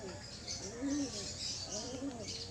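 Young pigeons cooing softly and repeatedly, low rolling burbles close by in a quiet loft, with faint chirps around them.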